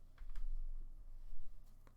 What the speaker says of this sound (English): I'm typing in 2030